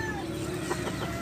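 A few soft clucks from backyard chickens in a cramped pen beside a highway, brief and faint over a constant traffic hum.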